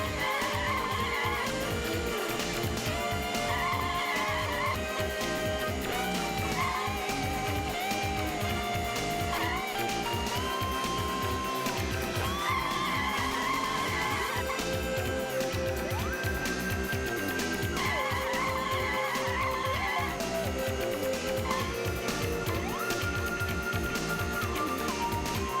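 Toy-style race car drifting through a corner in the PS1 game Penny Racers (Choro Q), with continuous engine drone and tire skid squeals layered over steady game music.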